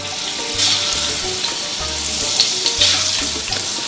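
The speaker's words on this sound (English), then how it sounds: "I'm going to add my calamari or squid" Calamari squid sizzles and fries in olive oil in a heavy pan, a dense close crackling hiss with faint stirring, no voices.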